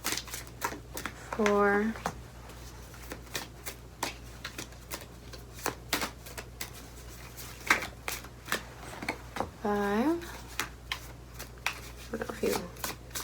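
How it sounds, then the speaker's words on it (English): Tarot cards are shuffled near and crisply, with repeated riffling bursts and taps spaced between a quiet voice counting aloud. "I always get ASMR from people shuffling cards."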